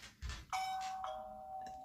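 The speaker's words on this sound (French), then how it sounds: "vous l'avez entendu, c'est une sonnette" A doorbell bought in a Temu haul rings out a clear electronic chime with sustained ringing tones, loud and close, after a couple of brief handling knocks.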